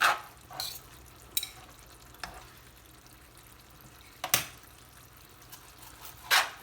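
Thin beef strips fry in a pan with a quiet, steady low sizzle, broken by a few sharp crackles and spatters.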